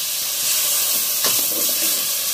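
Loud, steady sizzling hiss of water added to a hot pan of tomatoes and salt for milkfish sinigang, with a sharp burst of spitting around the middle that settles back into constant steamy frying.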